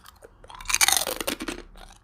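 Crunchy pork rinds being chewed up close, a short burst of loud, crisp crackling bites that fades into softer mastication over about two seconds.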